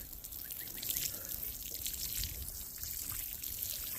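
An acid solution is poured steadily over a blueberry plant on an Alaska homestead, giving a continuous soft, hissing trickle of liquid, close and moderately quiet, with no speech.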